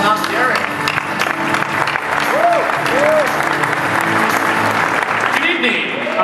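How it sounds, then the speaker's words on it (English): A large audience at the Microsoft CES 2012 keynote applauds and cheers, a loud, dense, sustained wash of clapping with whoops and a voice speaking over the crowd throughout. "Thank you for the cheering section for Windows Phone"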